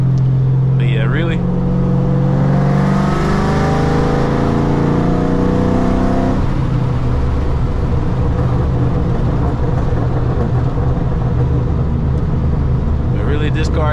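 Cammed Ford Mustang GT S197 V8 heard from inside while driving, a loud, deep, lumpy engine drone whose pitch climbs and then drops as the revs change, with someone talking over it.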